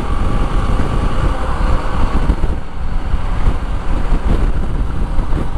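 A BMW G310 GS motorcycle engine drones steadily in sixth gear on a test ride, partly buried under strong wind rush with no voices.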